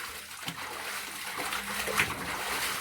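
Cold water drawn from an old hand-dug well splashes during an outdoor bath, a steady hiss of splatter and pouring with small bursts, fairly close and moderately loud.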